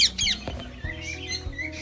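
Bright bird chirps and soft pigeon cooing mix with light clatter and a steady background hum, pigeons and other birds close by in an aviary.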